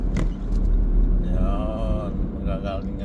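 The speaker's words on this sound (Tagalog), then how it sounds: "Ayan yung truck guys na kumukuha ng recycling oh." A recycling collection truck rumbles close by with low engine drone and some tonal whine, under people talking.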